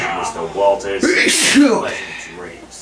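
A single sharp sneeze bursts out in the middle of a video game scene, set among close talking voices that continue right before and after it.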